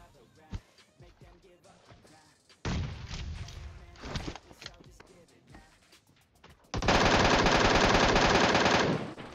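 Sustained automatic gunfire from an MK14 rifle in the mobile battle-royale game PUBG Mobile, coming in loud, dense bursts with a long continuous volley at the end, mixed with other game shots and effects.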